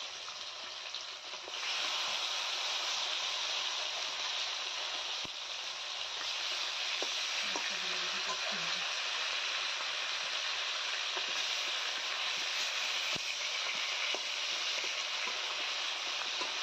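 Pieces of pangas fish fry in hot oil in a home kitchen, a loud, even sizzle that holds steady throughout, with a couple of faint clicks and no voices.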